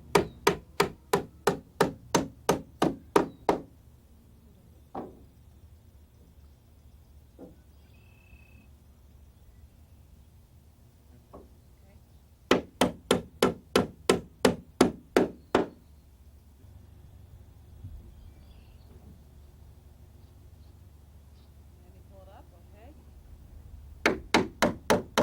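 Hammer nailing wooden deck verticals into fascia boards, heard as three separate bursts of rapid, evenly spaced loud blows, about eight to ten strikes each, with quiet pauses between.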